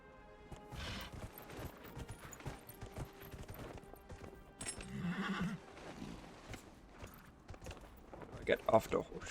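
In Dragon Age: Inquisition, a horse neighs and its hooves clip-clop at a gallop amid game effects, while someone talks over the action.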